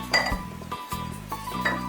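Ice cubes clink against a glass in quick, bright taps that repeat at an uneven rhythm, close by over a low steady hum.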